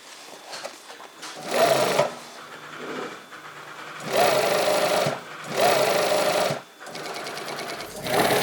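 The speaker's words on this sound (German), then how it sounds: "Mit der Kappnaht näht sie aus 2 Stoffteilen den Sattel der Hinterhose." An industrial sewing machine stitches a flat-felled seam joining two pieces of denim for the back yoke of jeans, running in several loud whirring bursts with short pauses between them.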